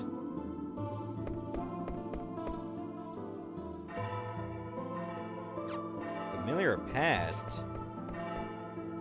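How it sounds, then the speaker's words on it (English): A bell rings in the video game Final Fantasy IX, with several clear chiming strikes over background game music and someone talking through much of it. "There's a nice bell."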